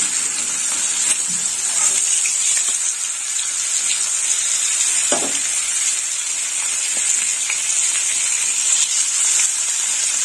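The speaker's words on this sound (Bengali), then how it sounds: "এবার দেখুন মাছের মাথাগুলো ভেজে নেবো।" Pieces of katla fish head fry in hot oil, a loud, steady hiss and spatter running throughout with small pops, close by and unbroken.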